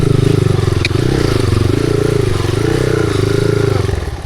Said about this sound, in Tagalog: Na plat ako ang motor.